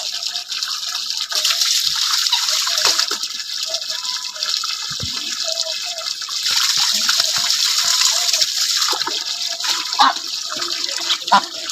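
Four-month-old Chinese ducks drink and bathe, giving a continuous rushing, splashing wash of water with small irregular drips and knocks throughout.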